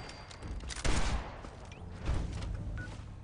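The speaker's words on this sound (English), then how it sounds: "Well, I got the machine gun." Machine gun fire in Fallout 4, two heavy bursts of shots about a second apart rising out of a murky, noisy game background, fairly close.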